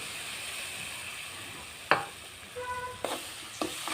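Soaked tamarind frying for drumstick gojju, a low sizzle broken by a few sharp clinks and scrapes of a spoon against the pan, with no talking.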